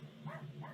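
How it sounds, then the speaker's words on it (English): A dog barks at a squirrel, a few faint, muffled yips and bow-wows heard from a distance with no talk over them. "was barking at the squirrel"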